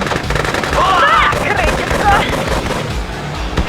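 Rapid gunfire rattles in quick bursts in the video game Command & Conquer: Red Alert 2, mixed with electronic game sounds and a brief unit voice in the background.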